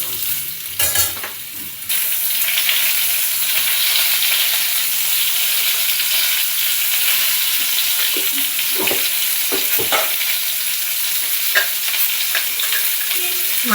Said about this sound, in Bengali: মাছের আলুগুলো এবার ভেজে নিচ্ছি, নুন হলুদ দেওয়া হয়ে গেছে, এবার ভাজবো